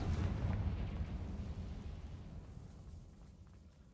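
A Confringo spell explosion in Hogwarts Legacy lands as a deep, rumbling boom that starts strong and slowly fades over a few seconds, with no talking.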